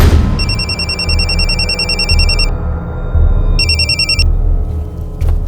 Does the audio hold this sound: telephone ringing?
yes